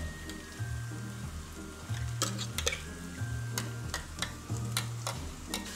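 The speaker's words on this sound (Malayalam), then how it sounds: "ഇനി മിക്സിനെ നന്നായിട്ട് ഒരു ഗോൾഡൻ ബ്രൗൺ നിറമാകുന്നവരെ ഇളക്കി കൊടുക്കണേ" Ground masala mix stirred with fried onions in a pan for a fish curry: a spatula scrapes in repeated rhythmic strokes over a soft, steady sizzle, close and fairly loud, with no talking.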